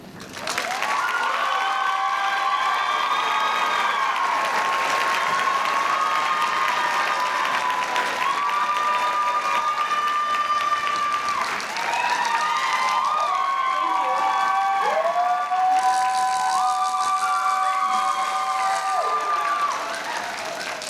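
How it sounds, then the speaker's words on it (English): A college commencement audience applauding a staff member's service award, sustained clapping mixed with cheers and shouts from a large crowd, with whistle-like voices rising and falling over it throughout. "Please give Mrs. Hernandez a round of applause"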